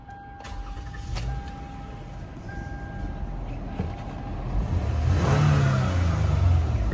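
A 2011 Toyota Sienna LE minivan with a 3.5 liter V6 is keyed on and idles steadily nearby, the engine note swelling louder toward the end, with no talking.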